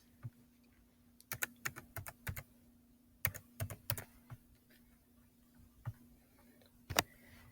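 Keys on a computer keyboard are tapped in quick bursts of separate clicks with short pauses between them as a seven-digit number is entered, quiet and close, over a low steady hum, with no talking.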